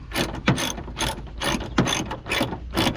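Wrench ratcheting a bolt off an aftermarket grill on a Ford F250/F350 truck, a close series of rapid clicking bursts repeating in quick strokes, with no talk.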